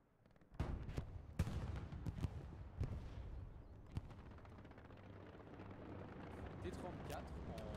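Artillery shells bursting in Hell Let Loose, several sharp booms scattered over a rumbling battlefield bed, mid-distance and fairly loud, with occasional voices in the mix.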